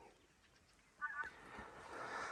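Geese honk in short bursts from a large flock flying high overhead in calm, clear spring weather, the calls faint and distant against a quiet background.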